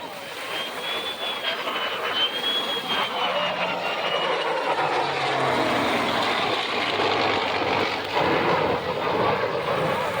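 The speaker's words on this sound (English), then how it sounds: "The jet's got to throttle back, and the prop plane is going to full bore." A North American P-51 Mustang and a Lockheed Martin F-35 Lightning fly past together at an air show heritage flight, a loud broad roar with a whining tone that swells and holds, some distance off.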